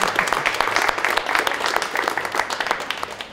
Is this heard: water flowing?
no